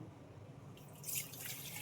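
Quiet room tone, then a short soft splash of water pouring into a bowl, faint and brief.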